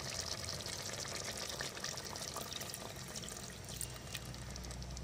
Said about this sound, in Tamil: இந்த ஸ்டேஜில் நம்ம தண்ணி ஆட் பண்ணிக்கலாம்.